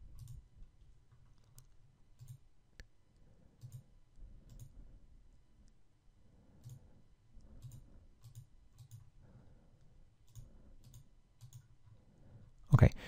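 Soft mouse clicks land at an irregular, sparse pace while buttons on a jQuery web page are pressed, faint and close-up. A sharper knock comes right at the end.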